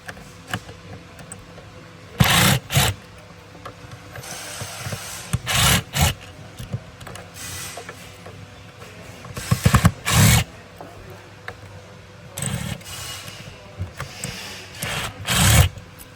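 Small Phillips head screws being undone on a Clearview Original manual-fold towing mirror actuator, giving bursts of close scraping, ratcheting screwdriver rasps in several separate spells with quiet gaps between, no talking.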